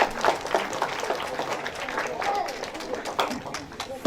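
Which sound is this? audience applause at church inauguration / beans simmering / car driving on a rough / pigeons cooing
audience applause at church inauguration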